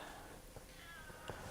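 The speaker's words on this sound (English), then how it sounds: "Here comes the dojo cat." A cat meows in a karate dojo, two short faint calls close together in the second half over a steady background hiss.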